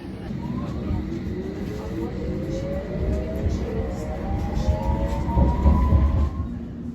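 A London Underground Circle Line train pulls away from the platform, its motors giving a rising, gliding whine above a steady rumble of wheels and carriages.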